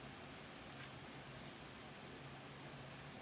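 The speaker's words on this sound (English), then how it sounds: "wow, it's really coming down hard." Heavy rain coming down hard outside an open window, a steady dense hiss with a low rumble that holds constant and fairly close, with no voices.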